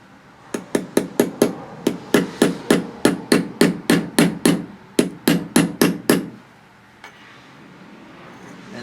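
A hammer tapping a washer into place on an Intek V-twin engine: about twenty sharp metallic taps in a quick, even rhythm, a brief pause, a second run of taps, then one faint knock.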